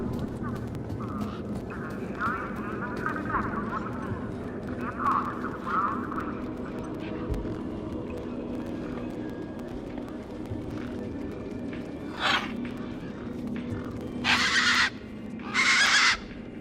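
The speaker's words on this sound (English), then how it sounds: "These were tough desert birds. Waving a crowbar around wouldn't faze them." Tough desert birds call in the video game Beyond a Steel Sky, giving a few harsh, raspy squawks near the end over a steady, droning ambient background.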